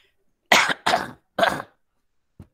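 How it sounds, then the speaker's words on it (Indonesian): A man coughs three times in quick succession, a short pause between bursts, then a faint throat clearing follows; close, loud and alone with no talk, during a statistics lecture. "saya agak batuk ini"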